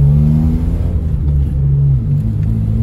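A Geo Metro's small engine droning and rising in pitch as it revs through a downshift, a loud, close, steady hum that dips and climbs again near the end.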